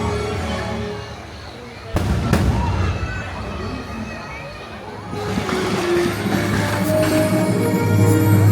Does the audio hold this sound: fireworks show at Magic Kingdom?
yes